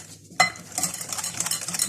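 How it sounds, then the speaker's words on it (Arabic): Ghee and sugar are stirred together in a bowl, a spoon scraping in quick gritty strokes that start with a sharp knock and continue in close, soft, rhythmic rasps. "وابتدي كده نقلبهم كويس قوي لحد ما السكر كده يدوب"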